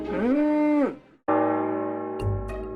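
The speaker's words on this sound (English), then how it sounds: "either the cow was mooing a lot" Cow mooing, two loud drawn-out bellowing moos close by: the first rises and falls, then after a brief gap a second long steady moo follows with some thumping knocks near the end.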